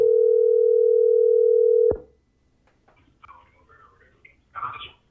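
A loud, steady phone dial tone holds for about two seconds during a call-in show, then cuts off abruptly into faint clicks and line noise.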